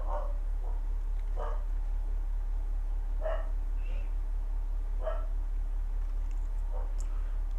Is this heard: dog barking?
yes